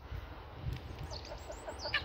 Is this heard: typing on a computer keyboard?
no